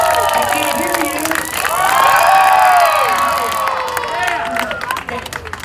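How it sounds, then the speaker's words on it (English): An outdoor crowd at a fire-eating and juggling show on Clearwater Beach cheers and shouts loudly with children's high voices and some clapping, swelling in the middle before thinning out. "You have to clap it now."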